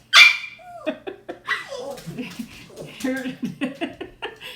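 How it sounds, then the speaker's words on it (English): A dog outside yelps, whimpers and barks in an excited run of short, high cries that start loud and continue in uneven bursts, with some human laughter or breathing close by. "The doggy is outside."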